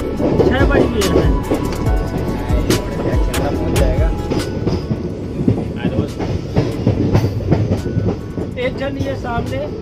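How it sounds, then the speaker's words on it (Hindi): A train passes at night at Katni Junction in India, its wheels giving a continuous loud rumble and clickety-clack with metallic clanks and squeals, while people talk nearby. "ये सामने ट्रेन देख रहा है सामने ये देखो"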